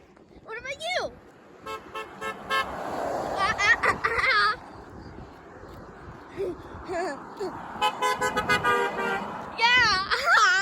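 Passing cars honk beside a park, a run of short toots and longer blasts scattered through busy traffic noise, mixed with excited cheering and children's voices.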